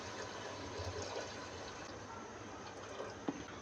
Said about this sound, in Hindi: अब हम इसमें तकरीबन पौना लीटर पानी शामिल कर देंगे